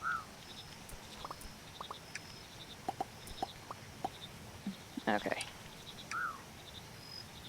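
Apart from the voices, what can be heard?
birds and frogs in the video game Mudborne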